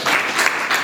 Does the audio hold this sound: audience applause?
yes